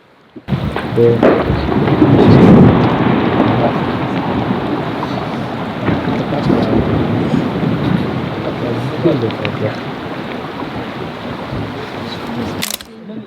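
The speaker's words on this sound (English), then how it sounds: "We can hear the glacier falling apart and exploding. It's like thunder" Deep, continuous rumbling roar of glacier ice breaking apart in Arctic Svalbard, like rolling thunder, loud and sustained throughout, with cracking bursts and no clear pause.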